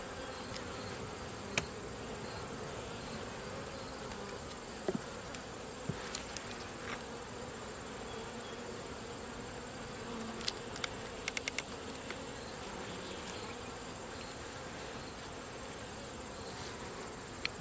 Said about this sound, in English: there's quite a few younger bees. They're kind of fuzzy looking.